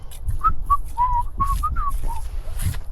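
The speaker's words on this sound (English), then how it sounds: "That's how you denote you're innocent. You whistle." A person whistles a short tune in a muddy field, a string of clear bright notes with small gaps between them, close and fairly loud over a low outdoor rumble.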